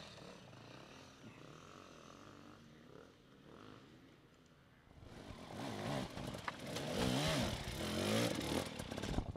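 A Husqvarna enduro motorcycle at an extreme enduro race swells from a faint distant drone into a loud, close, revving roar that holds to the end, with no talk.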